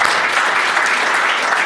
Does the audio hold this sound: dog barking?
no